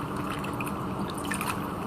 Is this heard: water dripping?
yes